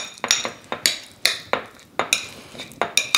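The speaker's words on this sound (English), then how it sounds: "So all I'm gonna do now is just mix everything up." Avocado guacamole ingredients being mixed in a bowl with a utensil: a close series of sharp clinks and scrapes at an irregular, steady stirring pace, with no talking.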